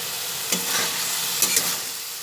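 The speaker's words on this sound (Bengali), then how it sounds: "ছানাটা একটু ভালোভাবে নাড়াচাড়া করে নিই।" Chhena with fried potatoes and spices is stirred in a hot pan, a steady close sizzle broken by two or three quick soft scrapes of the spoon.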